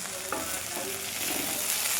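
Cut okra fries in oil in a home kitchen pan, a close, steady sizzle with a few brief scraping stirs.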